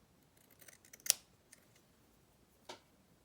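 Scissors snip through fabric in a quiet room, a few soft light cuts followed by one sharp close snip and another clip a moment later, with no talking.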